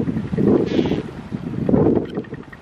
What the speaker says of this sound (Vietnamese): chiếc ghe mạnh chụp đã nhổ neo xong này. Đang có tăng tốc ra khơi nè các bạn